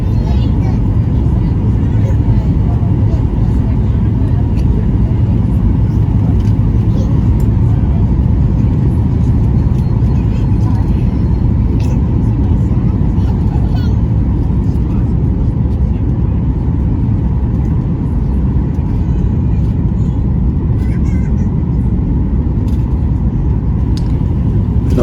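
Steady broadband roar of an airliner cabin on final descent into Austin-Bergstrom International, a constant loud engine and airflow rumble with no breaks throughout.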